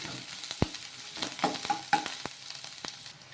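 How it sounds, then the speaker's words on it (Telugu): Curry leaves and ginger-garlic paste sizzle softly in a pan while a utensil scrapes and stirs, with a few sharp clicks and taps over a quiet frying hiss. "ఇందులోకి కొంచెం కరివేపాకు, కొంచెం అల్లం వెల్లుల్లి పేస్ట్, మరి ఎక్కువ కాదు కొద్దిగా ఇలా ఈ విధంగా వేసేసుకొని ఇవన్నీ కూడా ఒ కలిపేసుకున్నాము"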